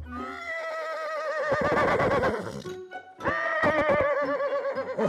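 A horse gives two loud, close whinnies, the first long and rising before fading, the second following after a brief pause, with faint hoof clatter beneath.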